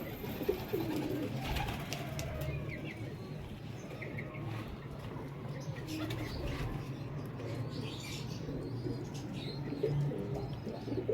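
Several pigeons coo softly and repeatedly amid a busy, steady background of chirps and rustling, the calls fairly close and continuous throughout.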